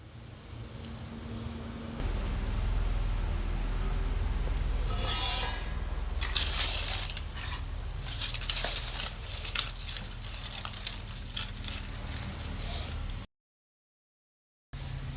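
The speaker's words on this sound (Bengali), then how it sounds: "একদম লো আছে কিন্তু আমি মদনগুলোকে ভেজে নিচ্ছি।" Madan bhaja sizzles gently in oil over low heat, a soft continuous crackle and patter with a few brighter spits, fairly quiet and close, ending in a brief silence.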